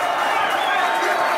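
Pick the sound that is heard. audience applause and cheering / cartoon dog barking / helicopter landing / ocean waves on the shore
audience applause and cheering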